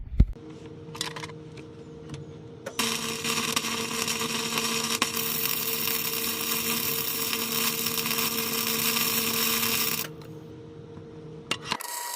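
A welder tack welds a bracket onto a Ford F350 during a death wobble repair, giving a harsh, steady, buzzing crackle for about seven seconds that cuts off abruptly, with faint clicks before and after.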